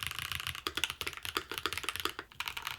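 Steady, rapid keystrokes on a curved Smurve80 mechanical keyboard kit with gasket mounting, each press a sharp close click in an uneven rhythm with no voices.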